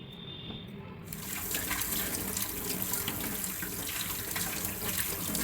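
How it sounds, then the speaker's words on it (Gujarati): Large cauliflower florets are rinsed under a running kitchen tap while pav bhaji is prepared. Faint handling noises give way after about a second to a loud, close, steady gush of running water that continues to the end. "હવે ફ્લાવરના આ રીતે મોટા ટુકડા કરી લેવાના અને છૂટા પાણીથી પહેલાં ધોઈ લેવાનું"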